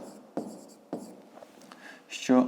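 A pen scratches out a maths solution on paper in short, quiet strokes with a few sharper taps, close up, as a voice speaks at the end.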